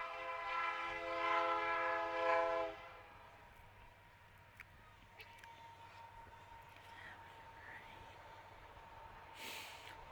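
A freight or passenger train sounds a horn near a baseball field, a sustained blast lasting about three seconds, followed by the low, steady rumble of the train rolling past in the distance.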